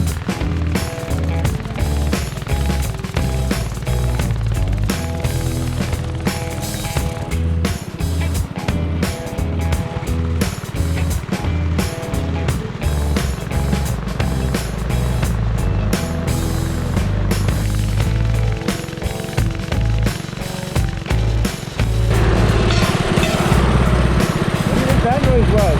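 A mini trike's small gas engine drones continuously while riding toward a waterfall, a loud rough buzz with wind and road noise mixed in, growing harsher near the end.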